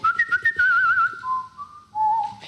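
A person whistles a melodic tune alone, starting with a few short staccato notes and then holding longer sustained pitches that step downward, clear and close.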